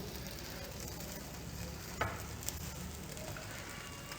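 A folded vegetable omelette filled with melting paneer cheese cooks in a pan on a low flame. It gives off a faint, even sizzle, broken by a couple of small clicks midway.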